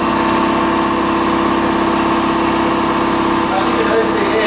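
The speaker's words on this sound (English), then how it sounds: "Secondly, belt driven, 3 horsepower compressor." Belt-driven 3 horsepower air compressor running loud and close, a steady droning hum with a constant motor whine and even mechanical tone throughout.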